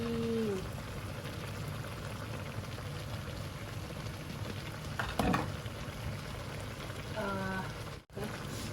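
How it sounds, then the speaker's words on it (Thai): Shrimp and squid stir-fried with holy basil in a hot pan, a steady loud sizzle with scraping and stirring throughout, brief clatter near the middle. "เราก็มาผัดต่อเลยจ้ะเพื่อนๆจ้ะ"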